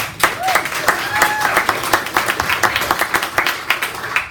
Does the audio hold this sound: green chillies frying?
no